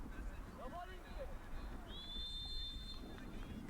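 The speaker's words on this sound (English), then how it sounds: "Here's the whistle." Referee whistle sounding before a penalty kick at a professional soccer match, DC United versus Eintracht Frankfurt, a steady high tone lasting about a second over constant stadium crowd murmur.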